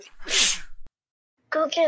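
A child gives one sharp, close sneeze, followed by a brief silence before someone speaks.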